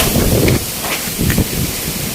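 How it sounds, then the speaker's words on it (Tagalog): Gusty wind in a garden buffets nearby with rustling bursts that rise and fall, alone without any talk. "grabe grabing lakas po ng hangin"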